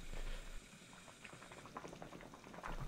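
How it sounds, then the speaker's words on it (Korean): Doenjang stew with fish cake skewers bubbling in a pot, a steady close simmer of small pops and liquid burbling with no voices. "푹 끓여주면 완성"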